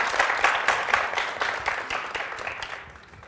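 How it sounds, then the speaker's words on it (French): Audience applause during a Valentine's Day special game show: dense, continuous clapping from a crowd, steady and fairly loud before gradually fading toward the end. "Merci d'applaudir très fort pour eux"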